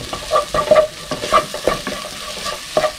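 Egg seasoned with pepper fries and is stirred in a pan for beef kothu porotta, the spatula scraping and clattering in quick irregular strokes over a steady close sizzle, with no talking.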